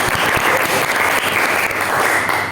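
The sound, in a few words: audience applause for a student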